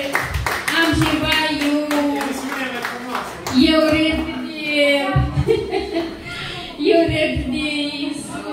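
A small family gathering in Lăpușna, Hâncești breaks into a few bursts of hand clapping, brief and near, with speaking voices and light laughter mixed between the claps.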